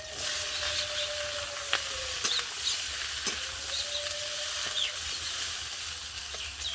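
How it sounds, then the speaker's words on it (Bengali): Potatoes fry in hot oil in a kadai with nigella seeds and slit green chillies, giving a steady close sizzle and hiss, broken by occasional scraping stirs of a spatula, with no talking. "আলু ভাজার জন্য কড়াইতে তেল দিয়ে দিয়েছি, তেল গরম হয়ে গেছে, তাতে দিয়ে দেবো একটু কালো জিরে, সঙ্গে কয়েকটা চেরা কাঁচা লঙ্কা"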